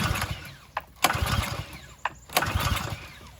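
An HF Predator pressure washer engine is pull-started but will not catch: rough, squealing cranking bursts come in a few separate attempts, each dying away with no voices between them.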